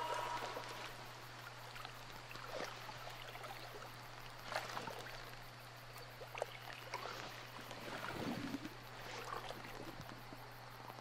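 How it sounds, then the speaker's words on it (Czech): Gentle water sounds in the horror game Outlast 2 on a foggy stretch of water, a soft continuous trickle and lapping with occasional splashes under a steady low hum. "No ta voda dělá taky pěkný zvuky"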